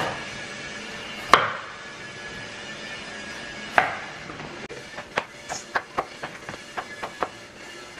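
A knife slices through raw potatoes into French fries on a board. Two isolated sharp chops come first, then a quicker run of about ten lighter, rhythmic cuts, all close and fairly quiet.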